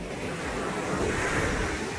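Choppy morning ocean surf at Pompano Beach pier washes in a steady, continuous roar that swells slightly midway, with wind rushing across the microphone and no voices.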